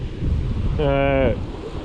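Heavy wind buffets the microphone with a low rumble while lure fishing on a winter coast, and a voice speaks briefly over it in the middle.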